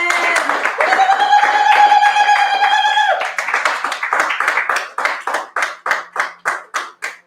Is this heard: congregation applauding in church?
yes